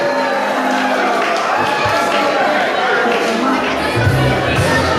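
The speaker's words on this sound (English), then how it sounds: "We give them applause, please." Guests at a wedding at Addington Palace break into steady applause mixed with cheering and crowd chatter, loud and continuous.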